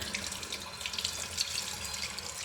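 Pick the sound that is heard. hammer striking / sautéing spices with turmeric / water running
water running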